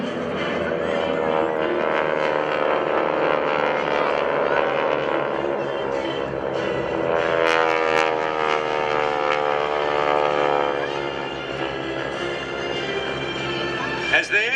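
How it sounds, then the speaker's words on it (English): Propeller aircraft of the GEICO Skytypers flying overhead at an air show, a continuous droning engine hum that rises and falls slightly, heard under someone speaking over a public address system. "watch high above the target area again, as two aircraft are dispatched to assess the damage"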